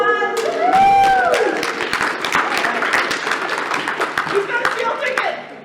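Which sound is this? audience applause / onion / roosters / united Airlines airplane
audience applause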